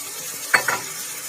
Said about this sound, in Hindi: इसमें डाल देंगे थोड़ा सा पानी